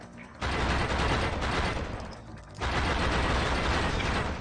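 Sustained automatic gunfire in a video game, two long loud bursts of rapid shots separated by a brief lull, close and continuous.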